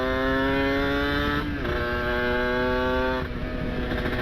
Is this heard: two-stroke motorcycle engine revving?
yes